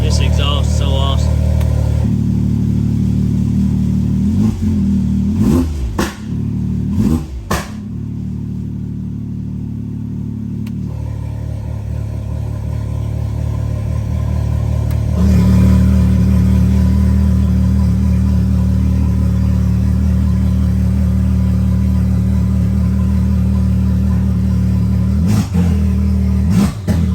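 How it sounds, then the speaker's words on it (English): A Can-Am X3 side-by-side sits close by with a loud aftermarket exhaust, idling in a deep rumble that rises into several hard revs and blips across the stretch before settling again. "This exhaust is so awesome."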